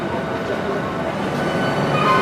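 A train at St Pancras International station in London makes a steady, close rumble with a low background murmur through the whole short stretch.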